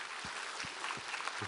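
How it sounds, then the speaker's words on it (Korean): A congregation claps in praise during a Korean Sunday church worship service, the applause soft and distant, a faint continuous patter with a few low thumps and no voices. "우리 하나님께 감사와 영광의 박수를 드리겠습니다."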